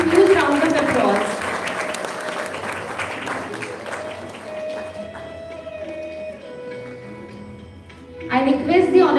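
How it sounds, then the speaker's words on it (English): Audience applause welcoming arriving guests at a national seminar, clapping strongest at first and thinning out, with a tonal sound and voices in between before a brief burst at the end. "Please welcome them with a huge round of applause."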